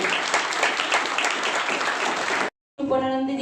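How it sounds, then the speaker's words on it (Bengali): An indoor audience at a poetry book launch claps in a dense, continuous round of applause for a couple of seconds. It cuts off sharply, then a short tonal sound follows. "তার জন্য একটা জোরে করতালি আশা করব আর একটু জোরে"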